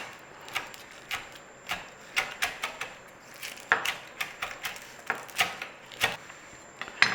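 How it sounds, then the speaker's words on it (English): Knife slicing through baked jacket potato skins for a loaded potato soup, a run of crisp, irregular cutting strokes and thuds on a board, close and fairly quiet, with no talk. "we want to be taking our potato skins and just slice them through"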